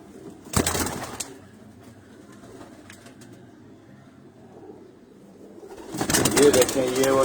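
Green pigeons kept by a breeder coo softly in the background, framed by sudden loud bursts at the start and end that resemble wing flapping, with a voice speaking nearby.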